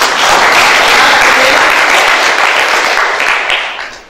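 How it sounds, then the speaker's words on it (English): Loud, dense applause from an audience welcoming panelists at an inter-university human rights competition fills the room, steady throughout and fading slightly at the end. "with a very big hand clap"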